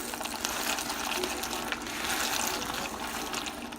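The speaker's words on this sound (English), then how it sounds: "the elbow noodles that we bought, we're going to cook them" Elbow macaroni noodles cooking in a pot of boiling water for baked macaroni and cheese, a steady bubbling, sizzling wash that stays fairly loud and unbroken throughout, with no talking.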